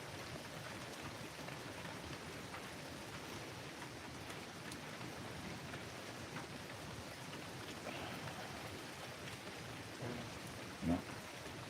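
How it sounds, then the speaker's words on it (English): Steady rain pours down during a severe line of thunderstorms, a continuous broadband wash at moderate level, with a brief louder knock or rumble near the end; no talking is heard. "There's the rain."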